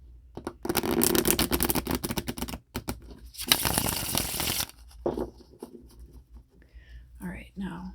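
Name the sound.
tarot cards being shuffled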